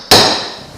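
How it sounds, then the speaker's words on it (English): A single sharp hammer blow on wood at a woodworking bench, near and loud, with a sudden attack and a ringing decay that fades over nearly a second. It stands alone, with no talking. "Hammer."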